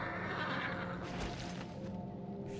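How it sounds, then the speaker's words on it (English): A horse in the video game World of Warcraft lets out a drawn-out neigh over steady game background noise, fairly quiet and without speech. "There's a horse here."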